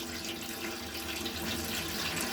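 Hot water runs steadily from a newly repaired sink faucet, a continuous broadband rush of flowing water splashing into the basin at close range, with no talking.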